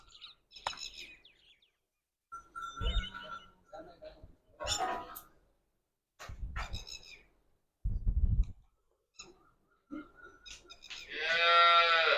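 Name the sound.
cattle lowing, Jersey cross heifers and buffalo at farm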